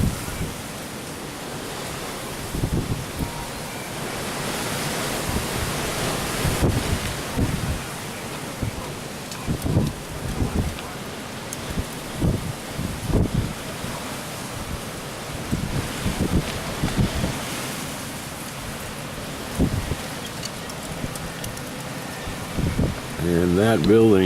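Strong north wind roars during a November desert windstorm at Cal-Nev-Ari, Nevada, as a steady broadband rush with repeated gusty thumps buffeting the recorder, loud and continuous throughout.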